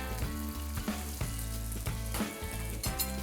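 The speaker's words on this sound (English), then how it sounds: "you need to fry slowly. Make sure your egg not come out." Brik pastry filled with egg and tuna fries in a pan, a soft, steady sizzle with occasional louder crackles and stirring scrapes, heard close and quiet without speech.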